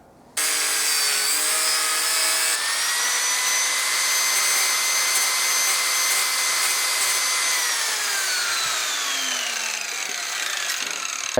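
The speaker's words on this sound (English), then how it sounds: "then chop it off with the angle grinder" An angle grinder cuts off a snapped exhaust manifold stud on a Vauxhall Corsa, a loud continuous high whine with a harsh grinding edge that holds steady, then its pitch slowly drops near the end.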